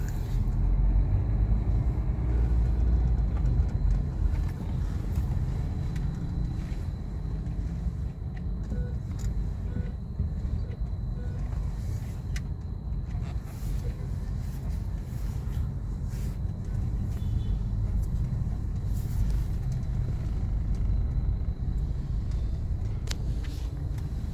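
Suzuki Ignis with an automatic robotic clutch pulling in to park, giving a steady, close low engine rumble and road noise throughout at an even level, with no talk.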